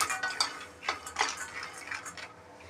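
Raw peanuts rattle and scrape against a dry pan as they are stirred and roasted, soft irregular clicks and shuffles close by with no talk.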